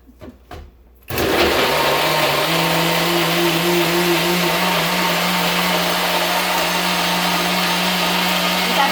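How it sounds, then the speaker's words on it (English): A kitchen blender whirs loudly and steadily as it blends a colorful mixture of mixed ingredients. A few soft knocks come first, then the motor starts and holds a constant high-pitched drone until the end. "Blend it for a little while."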